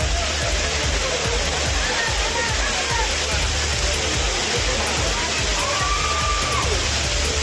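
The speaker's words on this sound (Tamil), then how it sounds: "குற்றால அருவியில் நீர்வரத்து சீரானதால் ஜில்லென்று கொட்டும் தண்ணீரில் சுற்றுலாப் பயணிகள் உற்சாகமாக குளித்து" Courtallam waterfall pours into a pool where tourists bathe, a dense, steady roar of crashing water that fills the scene, with faint splashes and voices of bathers mixed into the rush.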